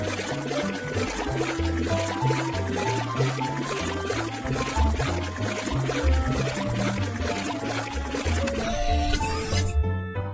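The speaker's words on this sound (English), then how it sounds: "Tap the button to spray the cleaning fluid." Cleaning fluid sprays onto a cartoon school bus at a car wash, a wet pouring hiss mixed under loud, steady children's music that ends abruptly.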